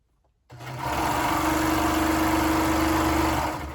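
A serger sewing machine starts after a brief pause and runs at a steady fast hum for about three seconds while stitching off a thread chain, close and loud, then slows at the end.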